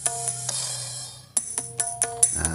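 Dangdut-style demo from an organ keyboard app on an Android phone: a held synth tone, then a run of short bright electronic notes over a low bass drone, fairly quiet and close, with no talking.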